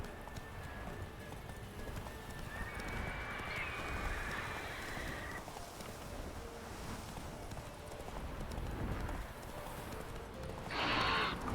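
A galloping horse in a video game drums out a steady, rhythmic clip-clop of hooves for several seconds over a constant background of game ambience. A brief brighter burst is heard near the end.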